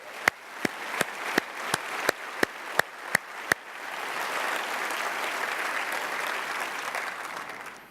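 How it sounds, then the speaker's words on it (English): Audience applause at a community breakfast, beginning with about nine sharp, isolated claps spaced evenly apart, then swelling into a sustained, moderately loud wash of many hands clapping together that carries to the end. "Let's give them a round of applause."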